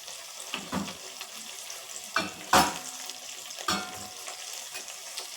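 Cauliflower and potato curry with gravy gets salted and stirred in a pan, producing several distinct scraping, sloshing strokes over a soft background simmer.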